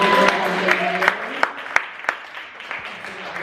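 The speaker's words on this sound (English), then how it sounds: "Give them a round of applause." Audience applauding nonprofit board members seated at tables during a disability pride day open mic event, steady clapping with a few sharp nearby claps and a voice speaking over it.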